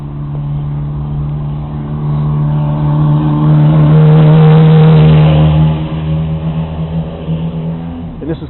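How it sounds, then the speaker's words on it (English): Heavy traffic, including trucks, passes on an interstate beside a Slovenian neighborhood. One loud engine hums nearby, swells as it goes by, then fades. "See all the trucks."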